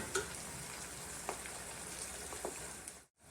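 Onions and peanuts fry in a pan for a chitranna rice dish, giving a steady, close sizzle with a few light stirring clicks and a brief dip in the sound near the end.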